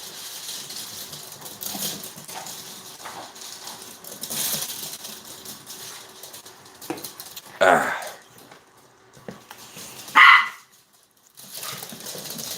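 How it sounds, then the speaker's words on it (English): Small puppies barking a few times during a home livestream, with short sharp yips standing out around the middle of the clip over quiet room noise and faint background activity. "Betty's faster than you, Mogwai. Little puppies."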